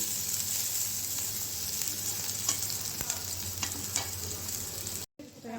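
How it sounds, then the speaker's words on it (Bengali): Ivy gourd (kundru) pieces fry with whole poppy seeds in oil, a continuous close sizzle and hiss with occasional sharp crackles and spatula clicks, before a brief dropout near the end. "গোটা পোস্ত দিচ্ছি আমি, এতে খুব খেতে ভালো লাগে। পোস্ত দিয়ে আর একটু ভেজে নেবো।"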